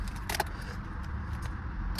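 Car keys for a 2012 KIA Sportage jingle in a few brief metallic bursts, one clear rattle early and lighter clinks later, over a low engine-like hum.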